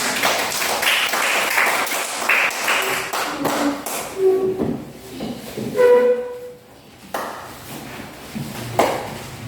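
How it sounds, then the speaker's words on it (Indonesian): A scattered burst of hand clapping in a school classroom, uneven and fairly close, with sharp individual claps rather than a dense crowd roar, plus a few voices calling out. "Tepuk tangan dulu untuk Elda."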